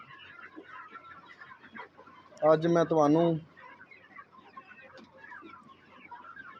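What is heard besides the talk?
desi chickens clucking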